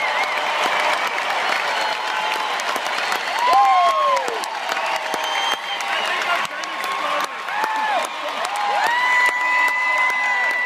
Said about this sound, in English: How about you give them a round of applause, audience?